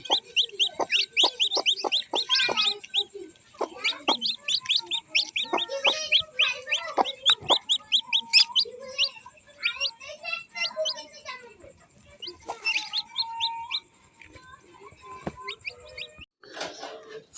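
Newly hatched quail chicks chirp in rapid, shrill, overlapping peeps close by, nearly continuous, with a voice speaking softly among them.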